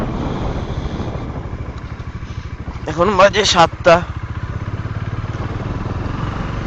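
A motorcycle engine rumbles with a steady low throb close by, and a rider speaks briefly over it partway through.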